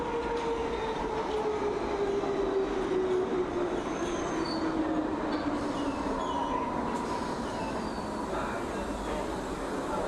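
A London Underground Hammersmith & City line train runs with a steady loud rumble and rattle heard from on board, while a slowly falling wheel squeal sounds over the continuous roar.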